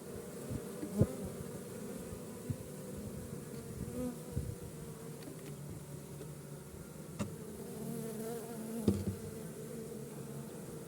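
A swarm of honey bees buzzing as it settles into a hive fitted with frames, a steady dense drone held throughout with a few sharp knocks and clicks standing out above it.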